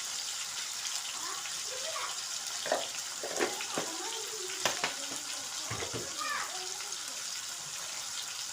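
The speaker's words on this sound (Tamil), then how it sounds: "காளான சிறுசு சிறுசாக பிச்சு உப்பு மஞ்சள் போட்டு கழுவி எடுத்துக்கிறோம்" Small torn pieces of mushroom are washed in water with salt and turmeric, giving a steady run of splashing and trickling water with intermittent handling clatter close by.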